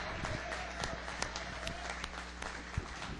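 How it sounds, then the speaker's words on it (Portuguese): Applause from a church congregation during a Portuguese-language sermon, a steady wash of clapping with scattered sharper claps throughout. "Aplaude."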